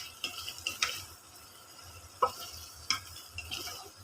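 Food being sautéed and stirred in a pan, with a few sharp utensil scrapes and clinks over a soft, steady background sizzle, close and fairly quiet.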